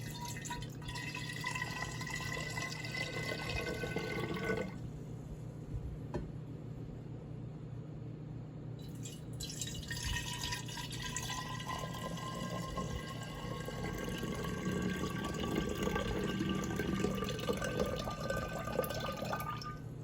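Liquid is poured from a container into bottles and topped up with water, a continuous splashing and trickling fill that pauses briefly partway through and then resumes, close by with no voices.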